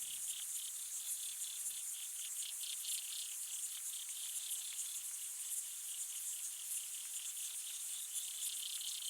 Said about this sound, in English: So this is the sound of these water boatmen singing at night.